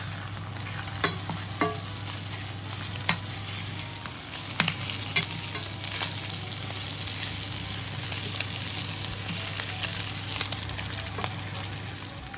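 Thick veal sweetbreads sizzle steadily in a hot pan, a dense continuous frying hiss with occasional pops and light clicks of stirring, close and unbroken throughout.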